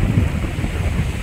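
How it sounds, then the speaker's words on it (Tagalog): Strong ocean waves breaking at a beach in Lubayat, Quezon, a steady loud roar of surf with heavy wind rumble on the microphone, no voices. "kaya po malakas ang alon dito"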